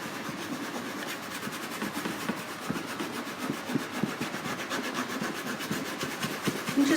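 Baking soda paste is rubbed by gloved finger over glue residue on a plastic container, a soft, continuous scrubbing and scraping with a steady back-and-forth rhythm, close up.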